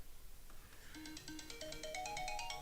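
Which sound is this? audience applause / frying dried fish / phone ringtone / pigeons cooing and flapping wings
phone ringtone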